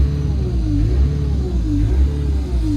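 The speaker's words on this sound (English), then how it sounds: "It's running at a high idle and the RPM is very all over the place." A loud diesel engine of a DX80 digger with an engine fault rumbles close by, running at a high idle, its revs rising and falling unevenly in a hunting, unsteady rhythm.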